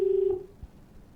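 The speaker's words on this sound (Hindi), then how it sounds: "पहले तो फोन ही आ गया है हमारे पास में।" Telephone call tones sound as a phone line connects: a steady tone for about a third of a second, then a faint click and quiet line noise.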